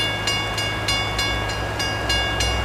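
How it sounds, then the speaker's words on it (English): Buffalo and Pittsburgh freight train passing southbound at a street crossing in Bradford, Pennsylvania, in snow; a steady rumble of rolling cars with regular clacking and a continuous high crossing-bell tone throughout. "here comes the Buffalo and Pittsburgh train southbound"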